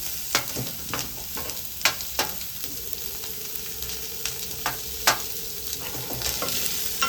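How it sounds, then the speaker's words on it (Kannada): Onions sizzle steadily in a pan while a spoon stirs them, with repeated sharp scraping knocks scattered through the close, loud frying hiss and no talk. "ಇದನ್ನು ಸ್ವಲ್ಪ ಚೆನ್ನಾಗಿ ಬ್ರೌನ್ ಆಗೋಷ್ಟು ಫ್ರೈ ಮಾಡ್ಕೊಳ್ಳಿ ಚೆನ್ನಾಗಿ."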